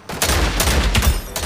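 Rapid burst of video game gunfire in Omega Legends, several loud close shots in quick succession.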